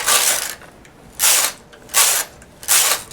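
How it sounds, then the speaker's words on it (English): Knitting machine carriage sliding across the needle bed to knit four rows, four loud rasping mechanical passes in a steady back-and-forth rhythm, each about half a second long with brief quiet gaps, close up and alone. "Once again, I knit 4 rows."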